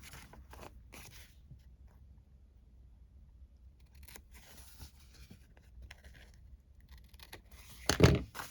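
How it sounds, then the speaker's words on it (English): Paper being torn with the teeth, a tall narrow envelope cut for a beginner card-making project: one short, loud crunchy rip near the end after mostly quiet handling and faint rustles. "Yes, I am cutting it with my teeth."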